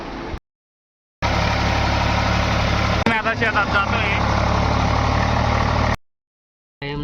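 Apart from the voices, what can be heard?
farm tractor engine running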